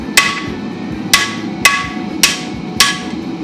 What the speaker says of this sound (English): I'm going to start flattening them out